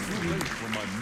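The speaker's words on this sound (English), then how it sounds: "you were applauding because it was called time" Brief burst of audience applause at a speedrun event for The Elder Scrolls III: Morrowind, dense clapping from a crowd under people talking.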